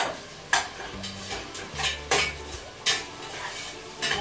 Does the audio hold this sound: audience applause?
no